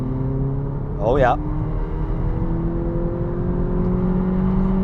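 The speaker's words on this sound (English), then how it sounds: "You can rev this engine out" A Volkswagen Polo GTI engine hums steadily inside the cabin and its pitch climbs slowly as it revs; a brief spoken remark cuts in near the start.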